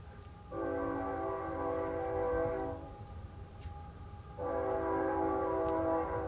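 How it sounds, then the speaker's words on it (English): Two sustained blasts of a train horn, each about two seconds long, separated by a short pause, sounding somewhat distant over a low rumble. "Here comes the train whistle."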